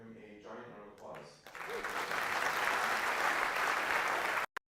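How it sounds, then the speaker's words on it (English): A voice speaks briefly before a conference audience at Config Management Camp in Ghent breaks into loud, sustained applause that swells and holds, then cuts off abruptly near the end. "So please give him a giant round of applause."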